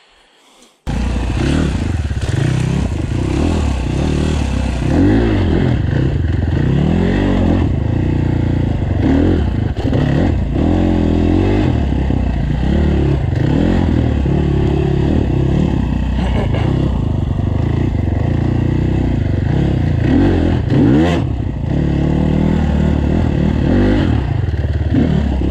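Avantis 250 or Minsk X 250 enduro motorcycle ridden through an enduro park, its engine droning loud and close for the whole stretch with rough revving swings, clattering and scraping over bumpy ground, and brief voices mixed in.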